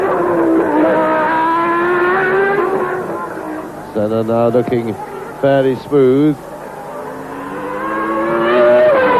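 Formula 1 cars from 1990, including two Williams cars and Ayrton Senna's car, racing at the Mexican Grand Prix in very hot conditions; a continuous engine drone with pitch changes sits under steady commentary.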